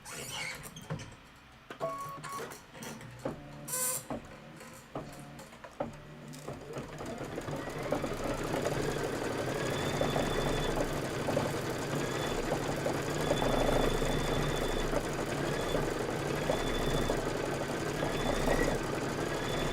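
An embroidery machine stitches a quilting step, a steady rapid mechanical whir and needle rattle that starts after some brief handling noises and then runs continuously, close and fairly loud.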